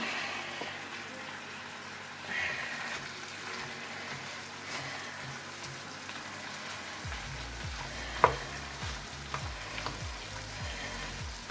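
Rice is fried and stirred with beef in a home kitchen pan, giving a low steady sizzle with scraping stir strokes, one sharp clink, and rhythmic scraping toward the end.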